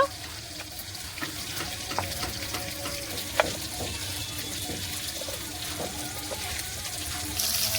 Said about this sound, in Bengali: মাছগুলো সব ভাজা হয়ে গেছে, তুলে নেব।